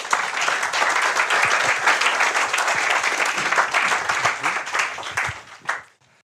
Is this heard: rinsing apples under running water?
no